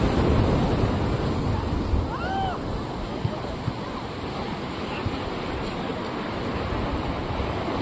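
Sea waves at Digha beach at low tide wash in as a broad, continuous roar with wind buffeting the microphone, and a faint distant whistle-like tone rises briefly partway through.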